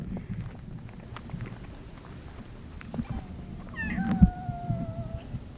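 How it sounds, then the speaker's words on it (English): On a former coal-mining island in Nagasaki, Japan, a cat gives one drawn-out meow against steady outdoor background noise, with soft rustling and shuffling around it. "The cat lives here."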